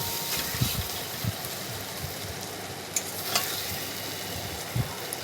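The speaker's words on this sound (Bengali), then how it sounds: "ভালোভাবে কষাতে থাকবো" Spice paste sautés in oil in a pan with a continuous dense sizzle, and a spatula stirs it in several dull, periodic scrapes and knocks.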